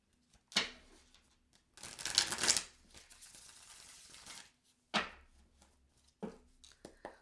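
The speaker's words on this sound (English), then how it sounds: "I'm gonna reshuffle and see what comes out." Tarot cards shuffled by hand in a few separate bursts of papery riffling and slapping, with a longer rustling stretch in the middle, close and fairly quiet.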